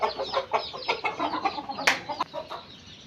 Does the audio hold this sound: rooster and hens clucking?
yes